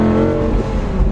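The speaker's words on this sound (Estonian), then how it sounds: "see jumin, mis siit tagant tuleb koos nende käiguvahetustega" Lamborghini Gallardo Spyder engine roaring loud and close, a brief burst of deep, throaty revving with a slight dip and rise in pitch suggesting a gear change.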